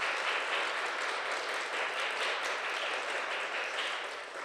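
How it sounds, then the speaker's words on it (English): An audience at a traditional Korean music performance claps for a musician from a musical family. The applause is even and continuous, heard from a little distance and fading slightly toward the end. "so please give him a round of applause."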